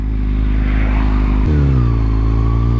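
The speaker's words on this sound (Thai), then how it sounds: "เสียงท่อนุ่มมากเลยอ่ะ" Loud, steady exhaust drone from a tuned Kawasaki ZX-6R sport motorcycle while riding, with a shift in engine pitch partway through and constant rumble throughout.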